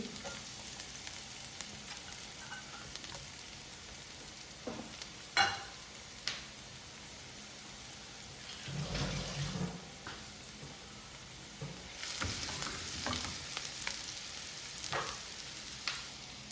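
Chopped garlic, ginger and green chillies sautéing in a pan for an egg chilly dry fry give a low, steady sizzle, with a few sharp scrapes and stirring bursts breaking through.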